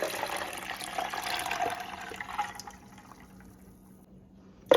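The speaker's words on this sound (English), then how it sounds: "Now I'm going to add 4 cups of filtered water." Four cups of filtered water poured into a nut milk maker already holding raw almonds, a steady splashing, filling flow for about two and a half seconds that tapers off into quiet, with a brief knock at the end.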